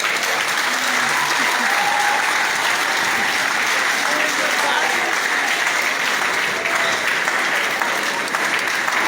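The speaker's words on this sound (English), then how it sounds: "Another round of applause for the." A steady, dense round of applause from a large audience after a university inaugural lecture, holding at an even level the whole way through, with some voices faintly mixed in.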